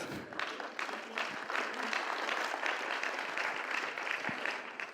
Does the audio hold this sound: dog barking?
no